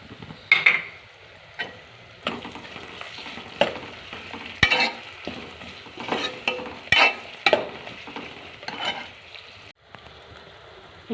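Crushed ginger and garlic fry in a pan with turmeric for a drumstick and tomato curry, a bright steady sizzle punctuated by repeated loud spatula scrapes and taps against the pan.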